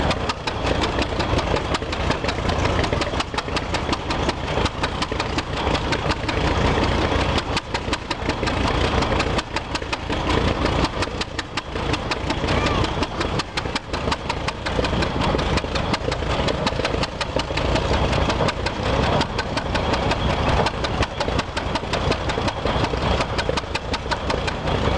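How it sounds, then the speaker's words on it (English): A 1913 45 hp Titan throttle-governed tractor engine drives a sawmill at a fall show in Pinckneyville, Illinois, making a loud, steady, dense mechanical roar and rattle that runs continuously throughout without pause. "1913 45 horse Titan throttle governor tractor on the sawmill"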